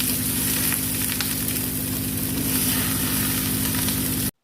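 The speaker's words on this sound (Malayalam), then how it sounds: "എന്നിട്ട് ഇത് വറുക്കാൻ വെക്കാം" Mackerel wrapped in banana leaf fries on a tawa with a teaspoon of oil, giving a steady, close sizzle with a low hum underneath, continuous until it cuts off abruptly.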